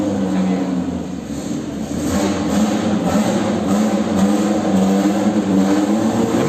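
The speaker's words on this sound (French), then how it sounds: "Les moteurs s'échauffent." Classic car engines warm up at the Magny-Cours circuit during the Classic Days event, producing a loud, continuous engine rumble with steady revving swells, close by and sustained throughout.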